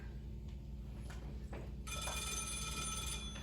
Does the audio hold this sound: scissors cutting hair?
no